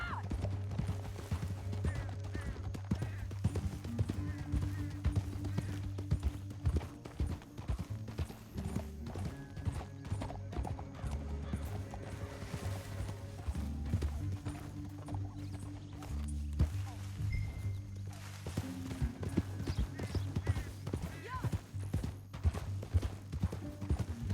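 Horses gallop in Red Dead Redemption 2, their steady clip-clop hoofbeats running through the whole stretch beneath a continuous game score, with no voices on top.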